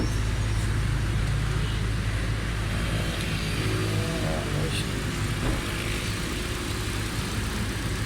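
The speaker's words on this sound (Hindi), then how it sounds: "गाड़ी चला के भी चेक करते हैं" A Hyundai Santro with a fuel fault, a misfire and weak pickup drives along, its engine and road noise a steady, fairly faint drone with no break.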